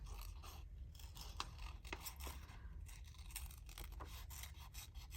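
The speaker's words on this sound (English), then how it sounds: "Always wiggling my paper, not my scissors." Quiet snips and rustles of scissors cutting through glassine paper, a series of soft, irregular crisp cuts with faint handling noise and no talking.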